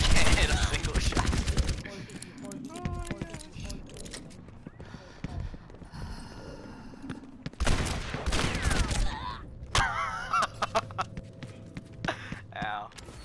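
Gunfire from the video game Overwatch, bursts of rapid shots and impacts scattered through a busy game mix, loud at the start and again near the end, with speech-like game voices in the background.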